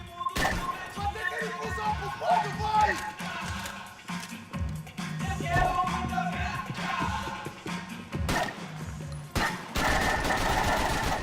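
Rapid bursts of gunfire from the video game Max Payne 3 crackle in quick, uneven volleys over busy game audio, with brief pauses between strings of shots.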